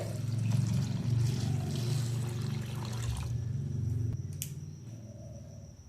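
Rice washed by hand in water, a steady sloshing and swishing lasting several seconds before tapering off, with a small clink near the end.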